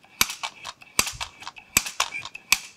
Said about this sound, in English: we'll come in here with the oil gun. And we'll put some oil down in here on these